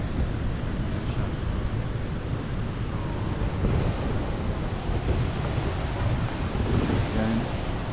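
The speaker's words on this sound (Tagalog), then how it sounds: "So pag malakas yung alon," Strong ocean waves surge and wash against the Bondi Icebergs infinity pool at Bondi Beach, a loud, steady roar of surf mixed with gusting wind noise on the microphone.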